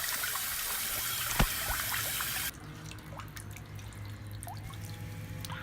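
Water drains from an Airstream water heater tank being flushed, a steady trickle and spatter of falling water with a few drips, close by, the hiss dropping in loudness partway through, no talking.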